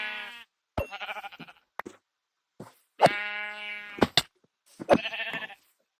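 Several sheep bleats from Minecraft, each a short wavering cry separated by brief silences, clear and close.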